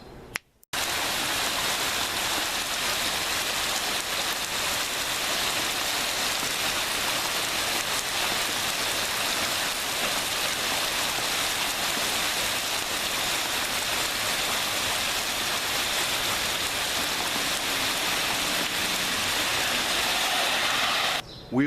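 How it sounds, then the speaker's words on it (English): Heavy rain pours steadily during a thunderstorm, a dense, constant wash of water that holds at an even loudness from start to finish, with no voices. "We've had a really nasty weather pattern this week with a lot of thunderstorms and heavy rain"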